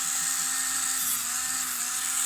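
A rotary disc grinds a silver-plated butter knife, a steady, high-pitched whining hiss that holds evenly from start to finish with a faint low motor hum beneath.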